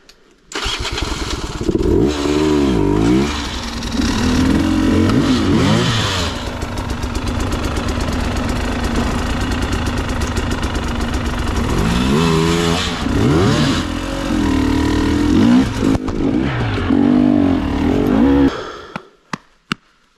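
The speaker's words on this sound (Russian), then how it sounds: "двухтактничек" A Sherco SE 300 two-stroke motorcycle is ridden close by, its engine buzzing steadily with repeated rising revs and throttle blips before cutting off near the end.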